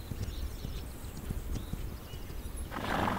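Hooves of a fast horse in a video game clip-clop steadily in a continuous rhythm over a low rumble, with a brief brighter burst near the end.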